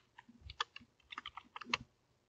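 Fingers type on a computer keyboard in short irregular bursts of clicks and key taps, faint and close, with small pauses between groups of strokes.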